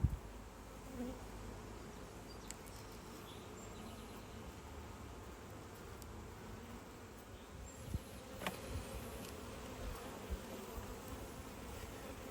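Honeybees humming steadily inside an open hive crowded with brood, a dense, continuous buzz close by with occasional louder passes of individual bees, no talking.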